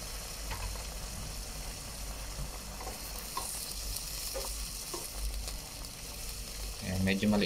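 Tilapia slipped into gently bubbling coconut milk in a small pan, a steady soft simmering sizzle with light stirring clatter throughout, swelling briefly louder near the end.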